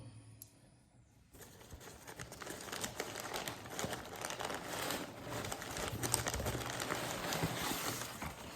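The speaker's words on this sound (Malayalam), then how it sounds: "നമുക്കിന്ന് അൺബോക്സ് ചെയ്ത് നോക്കാം." A Hot Wheels diecast package is unboxed. After a brief quiet start, close crinkling and rustling of the plastic packaging runs steadily to the end.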